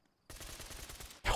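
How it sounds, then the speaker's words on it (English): A JTEC LMO gun in a zombies video game fires a rapid burst of gunfire, a dense string of fast, sharp shots that lasts about a second and then cuts to a louder burst of noise. "you can shoot so fast with the JTEC LMO"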